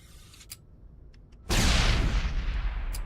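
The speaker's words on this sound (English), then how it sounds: "Just throw a grenade." A sudden loud grenade blast in the Mass Effect shooter, preceded by quiet scattered shots, then a heavy rumbling burst of explosion and gunfire that fills the rest of the moment.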